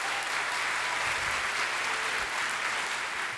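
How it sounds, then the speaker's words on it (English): An audience at a live storytelling event in Claremont claps in one continuous, even burst of applause, dense and steady from start to finish with no talk over it. "By a round of applause."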